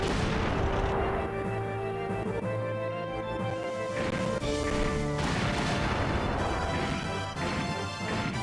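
Missiles fired by an enemy mech burst in rapid, heavy blasts in Front Mission 2, layered over loud game music with tonal notes and continuous crashing impacts, no voices.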